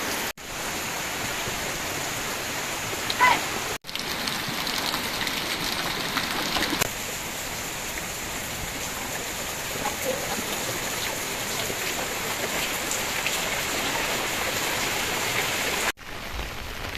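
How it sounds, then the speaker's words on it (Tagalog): Heavy storm rain pours steadily onto surfaces outside a home, a dense continuous hiss at moderate level with a couple of brief dropouts and no talking. "Ang lakas ng ulan mga kaibigan at may bagyo."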